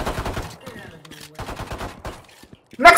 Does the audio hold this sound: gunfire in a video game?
yes